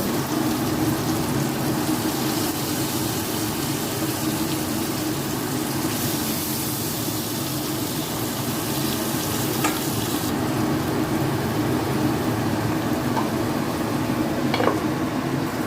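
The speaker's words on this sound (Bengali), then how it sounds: "আলুগুলো আর একটু ভালো করে ভেজে নেব" Potatoes fry in hot oil in a pan for a Bengali ridge gourd and potato dish, giving a loud, steady, close sizzle with crackles that runs the whole time, with no talking.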